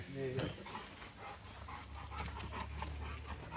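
A large female pit bull dog pants and whimpers close by, its breathing running under steady male conversation.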